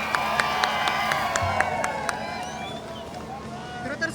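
A crowd at a Kavad yatra procession in Hingoli cheers and shouts in the rain, with rhythmic sharp bursts and steady hubbub while a reporter talks over it.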